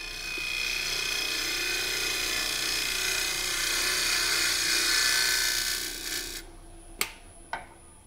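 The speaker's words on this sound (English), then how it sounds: "So we'll take the bowl gouge. Go back and clean that up real quick." A bowl gouge cuts wood on a spinning lathe, a steady hissing whine for several seconds that cuts off abruptly, followed by a couple of sharp knocks.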